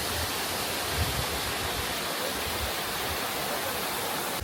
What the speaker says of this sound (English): I love the sound of waterfalls.